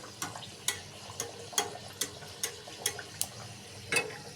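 Mughlai paratha shallow-frying in a pan as oil is spooned over the top, giving a soft steady sizzle broken by about a dozen sharp crackles and spatters spaced roughly evenly, close by and fairly quiet.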